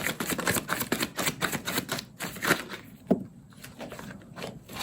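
Tarot cards shuffled and drawn, giving rapid close papery flicks and taps in quick bursts, then a few scattered slides and snaps as single cards are pulled.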